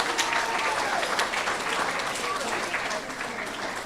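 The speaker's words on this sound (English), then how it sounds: "So please give them a round of applause." An audience at a third-grade school awards ceremony gives a steady, loud round of applause for the teachers, dense clapping that holds throughout with a voice audible underneath.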